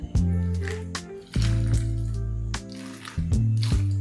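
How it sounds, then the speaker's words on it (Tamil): Boiled water is poured into a homemade instant cerelac mix in several short bursts, each a gurgling, rising liquid pour, close and fairly loud with brief pauses between. "இப்போ இதில் நம்ம கொதிக்க வச்ச தண்ணி ஆட் பண்ணிக்கலாம்."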